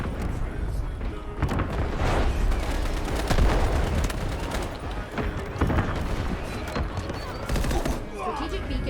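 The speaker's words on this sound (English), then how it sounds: "Artillery barrage incoming." Artillery barrage in a modern FPS game, heavy booms and rolling explosions mixed with gunfire, loud and dense throughout, with game voices heard under the blasts.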